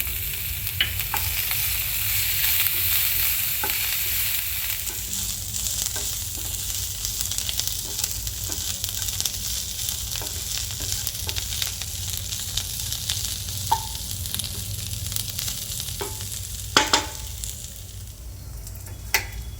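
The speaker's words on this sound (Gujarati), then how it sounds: "હવે તેમાં વન ફોર્થ કપ કોથમીર નાખી અને બે મિનિટ જેવું ચલાવવાનું" Thecha masala with chopped coriander stirred in a hot pan, a continuous close sizzle and crackle with soft scraping strokes and occasional sharper knocks of the spatula.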